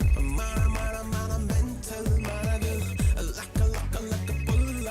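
A loud melodic phone ringtone plays a repeating tune, cycling about every two seconds with no talking.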